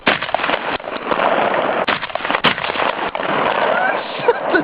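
A single sharp rifle shot cracks out at a mug set up as a target, heard over steady wind-like outdoor noise, with people talking nearby.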